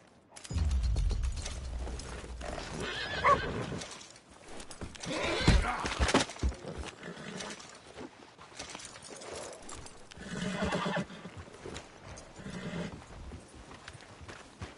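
Horse in the game Red Dead Redemption 2 galloping with steady clip-clop hoofbeats, a loud whinny partway through, and creaking tack, all fairly close and continuous.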